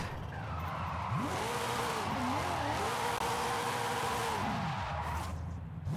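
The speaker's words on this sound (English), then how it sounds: "I'm going to quickly just heat the wheels up a little bit" Tires squeal under wheelspin on a 1977 Ford Escort RS1800 with a 1000 hp drag tune in Forza Horizon 5; a steady engine roar carries a wavering screech that rises, holds for several seconds, then fades.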